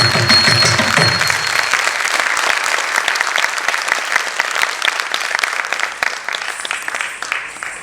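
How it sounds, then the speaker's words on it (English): Audience clapping after a classical dance performance at a festival, dense applause that starts over the fading music and then continues alone, gradually thinning toward the end. "Your claps are telling me all the stories and the performances which you are liking it."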